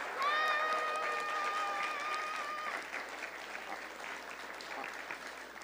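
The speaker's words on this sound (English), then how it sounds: "Let's give another round of applause." Applause from a live storytelling audience, a soft continuous patter of hands heard at a distance, with a held musical tone ringing over the first few seconds before the clapping thins out.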